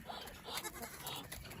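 Faint bleating of sheep and lambs at a distance on a cold homestead morning, several wavering calls over a soft outdoor background.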